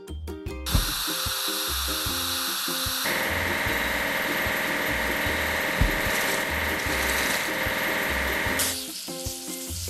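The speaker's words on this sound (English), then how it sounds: "Hydraulic hammer." A hydraulic hammer breaks rocks in a heavy-equipment assembly truck game, giving a loud, steady mechanical rattling and hammering that runs for several seconds between brief clanking effects at the start and end.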